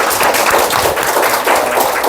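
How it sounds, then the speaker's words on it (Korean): A church congregation claps in steady, dense applause, loud and close, continuing evenly with no voices over it. "우리 경식에게 박수 한번 주세요."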